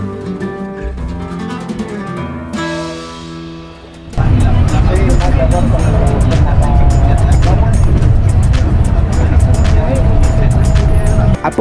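A first-class intercity coach pulls away from a Mexican bus station, its engine a loud, steady rumble that surges in after a quieter opening of voices and tones, staying continuous and close to the end.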